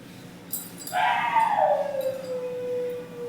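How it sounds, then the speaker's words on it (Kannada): A single dog howls close by in a long, drawn-out cry that rises and then slides slowly downward, with a few faint yips just before it and no talking. "ಈ ನಾಯಿ ಅಂತೂ ಸಖತ್ತು ಬೇಜಾರು ಮಾಡಕತ್ತೆ ವೆರಿ ಡಿಸ್ಟರ್ಬ್"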